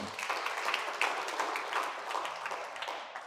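Faint, distant applause from a conference audience for keynote speaker Prof. Isa Ali Pantami, a brief patter of scattered clapping that fades over a few seconds.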